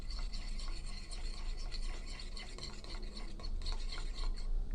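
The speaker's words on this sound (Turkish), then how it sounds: "Öyle olana kadar karıştırıyoruz." A borax slime mixture is stirred by hand in a bowl, giving a continuous wet, sticky scraping and clicking with small uneven bursts, close and moderately loud, with no voice.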